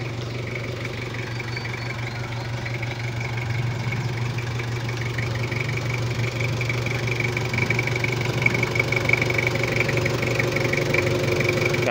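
Toyota Kijang diesel engine upgraded with a turbo intercooler and a full-system exhaust, idling steadily with a low, even rumble and a faint knocking texture, heard close and continuously with no talk.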